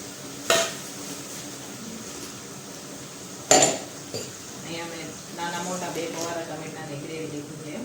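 Tomato gravy for pav bhaji cooks in a pot. Two sharp clanks of a utensil against metal stand out, followed by lighter scraping and a low simmer, with a person talking through much of it.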